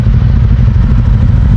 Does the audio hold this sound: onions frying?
no